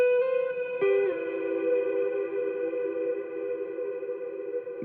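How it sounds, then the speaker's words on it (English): Lo-fi guitar accent line processed through effects plugins with reverb and a wide, shimmering tail: a plucked note change near one second, then sustained harmonic tones ringing steadily and evenly, alone with no talk. "For this guitar top line melody, I added this guitar accents."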